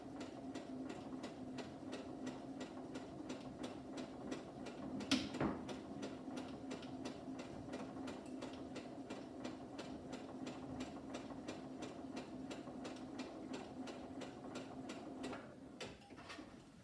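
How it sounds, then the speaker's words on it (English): Domestic sewing machine running a steady straight stitch along the edge of a rag-edge quilt, a fast even mechanical patter with a hum underneath, close and continuous with one brief knock partway through. "Just sewing on a straight stitch starting from just off and run it along that line"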